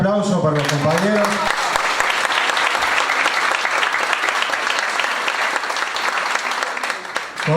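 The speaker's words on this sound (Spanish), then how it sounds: "Un aplauso para los compañeros." Audience applause at a panel discussion in Argentina, dense and sustained clapping that fills the room for several seconds before tapering off at the end.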